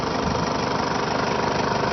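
Toyota Hilux engine running steadily after repair work, a continuous close mid-to-low rumble with even idle vibration throughout, no talking.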